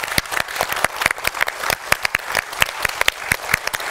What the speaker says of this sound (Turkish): Ekibime kocaman bir alkış rica ediyorum.